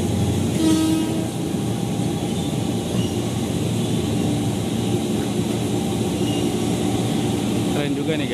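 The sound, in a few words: JR 205 series commuter train arriving at Mangga Besar station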